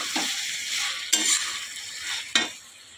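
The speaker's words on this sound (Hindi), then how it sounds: "यहाँ मेरा सब्जी फ्राई हो रही है।" Drumstick (sahjan) vegetable frying in a kadhai, a steady broad sizzle with a few sharp scraping stirs of a spoon against the pan, close and loud with no talking.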